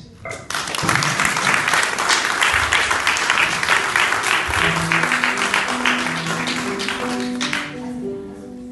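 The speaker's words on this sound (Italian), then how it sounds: "Volevo invitarvi a fare un applauso all'autore di questo testo, che è Lorella Farraotto" An audience applauds after a reading of an Italian monologue, loud sustained clapping that fades out near the end as soft piano notes come in.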